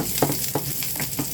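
Garlic and onion sautéing in a pan for a simple home-cooked lunch, a steady close sizzle with small crackling pops.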